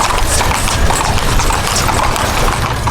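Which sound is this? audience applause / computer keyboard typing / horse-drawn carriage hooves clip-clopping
horse-drawn carriage hooves clip-clopping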